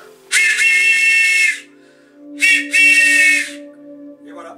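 A breathy, multi-toned wooden train whistle turned from ash wood is blown twice nearby, a long blast and then a shorter broken one, with quiet background hum.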